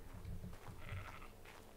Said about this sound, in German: Und guck, wir haben pinke Schafe.